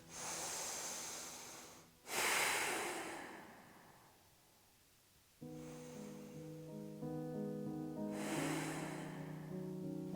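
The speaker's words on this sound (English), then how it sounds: "take 2 releasing breaths" Two long releasing breaths during a beginner yoga flow, each a strong airy exhale rising then trailing off, close to the listener, with soft tonal background music under them and no talking.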